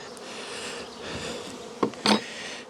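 Honeybees hum around an opened nuc hive during a queen check, a steady close droning buzz with a couple of louder bursts as bees fly past near the end.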